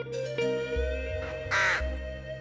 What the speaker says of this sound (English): This raven appears to be psyching up for a hunting session.